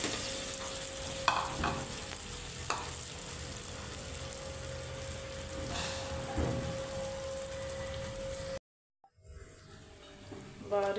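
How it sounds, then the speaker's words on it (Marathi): Semolina roasting in ghee with raisins in a pan over low heat, a soft continuous sizzle with scattered scraping stirs, faint and close, broken by a brief silent gap near the end. "तुपामध्ये आपण आपला आता हा रवा टाकून घेऊया।"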